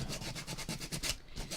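Hand sanding with coarse 60-grit sandpaper on a patriotic craft project, a quick series of rhythmic rasping back-and-forth strokes close up, about eight passes with a brief pause near the end.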